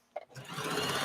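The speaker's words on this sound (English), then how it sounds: "You can hear the machine like struggling through this because this is extremely thick" A sewing machine working through extremely thick fabric, starting after a brief click and running as a loud, close, steady whir to the end.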